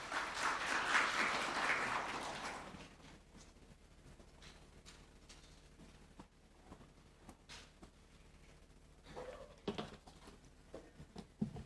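Applause from a ceremony audience in Pakistan welcoming Senator Sania Nishtar to the stage at an Ehsaas Programme event, loud dense clapping for the first few seconds, then fading into scattered claps and quiet room noise.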